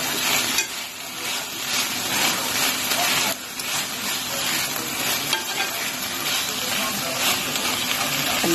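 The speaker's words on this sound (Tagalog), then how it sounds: "Mix na natin yung ating sausage." Sausage stir-fried in a pan for arroz valenciana sizzles and hisses steadily, with the occasional scrape and clatter of stirring.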